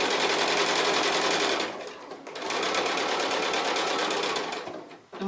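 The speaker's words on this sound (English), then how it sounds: "So I'm just stitching along the edge on this sort of tape." A sewing machine stitching along the edge of fabric strips for a cushion, a rapid steady mechanical whirr and clatter, close and loud, pausing briefly midway before running on and stopping.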